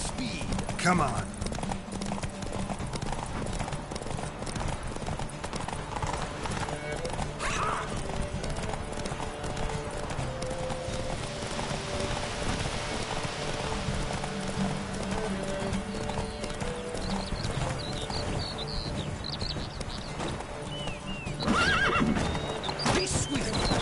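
The horse Roach gallops in The Witcher 3, with steady rhythmic hoofbeats and an occasional whinny under in-game speech and a music and ambience bed.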